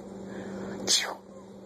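A single short, sharp sneeze from a cat, close by, against a quiet background with a faint steady hum.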